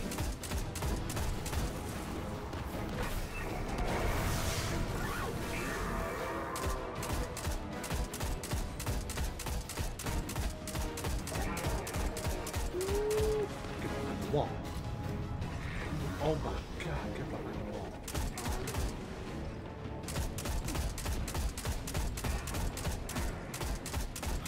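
Gunfire in Destiny: Rise of Iron, rapid repeated shots in dense bursts nearly throughout, loud and busy, mixed with impacts and game effects while a voice talks over parts of it.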